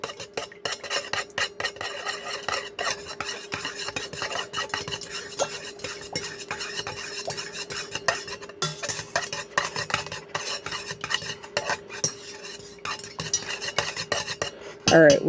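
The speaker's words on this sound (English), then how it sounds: "Stir that in really well." Coloured wax is stirred in a container while being mixed for handmade wax melts, giving a steady stream of light scraping, tapping utensil strokes, close and fairly quiet, with no talk.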